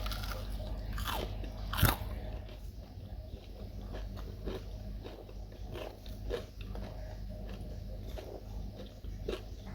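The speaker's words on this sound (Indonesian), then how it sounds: "Selanjutnya saya akan lakukan tes kriuk dan ini posisi pisangnya sudah sekitar 1 jaman setelah digoreng." A crunch test on a honey-glazed fried banana fritter, cooled for about an hour after frying, with one sharp crisp bite standing out near the start and softer crunching and chewing following at close range.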